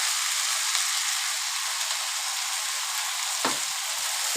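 Green beans frying in a pan sizzle steadily at close range, with a brief stir or clatter as tomatoes are added, no talk.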